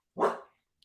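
A single short, close dog bark, sharp and alone, followed by quiet.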